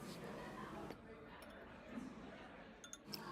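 A spoon clinks against a small toy teacup while stirring sugar into pretend tea, giving light, scattered glassy ticks at close range over a low background hum.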